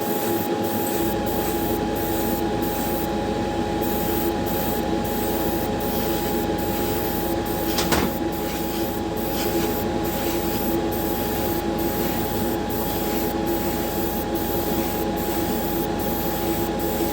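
Spray paint hisses in one long steady burst as a light first coat goes onto a Hot Wheels die-cast car, loud and close with no pauses.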